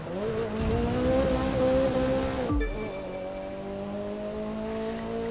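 An MX-5 Rally Raid roadster races a rally stage in Glacier Park in The Crew 2. Its engine drones loud and rising, drops abruptly partway through, then settles into a steadier, lower run.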